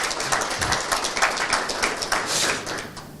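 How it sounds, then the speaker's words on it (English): Meeting audience applauding new contractors at a working-group session, a few seconds of steady mixed clapping from a room of people that tapers off at the end. "give a round of applause for our new contractors"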